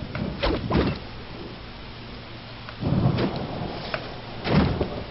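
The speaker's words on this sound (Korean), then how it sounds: "비가 오기 시작합니다." Rain and thunder in a mobile strategy game: a steady hiss of rainfall with a few deep rolling thunder rumbles rising and fading, with no voices.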